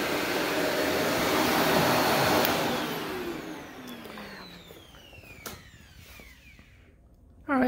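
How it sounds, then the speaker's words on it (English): A Shark NV355 vacuum cleaner with worn motor bearings runs with a loud, steady whine that gradually winds down and fades after a few seconds, leaving a quieter tail with a few faint knocks. "I guess I can hear that there's a little bit of wear and tear on the motor bearings"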